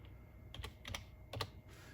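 Quick, light keystrokes on a computer keyboard while entering a search into Windows 10, a few short clusters of clicks close up over a quiet background.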